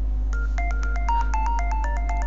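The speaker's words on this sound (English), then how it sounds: "Now that's your ringtone, dudes." An iPod Touch plays a custom ringtone set from a song, a crisp series of rapid plucked electronic notes in a bouncing melody over a steady low hum.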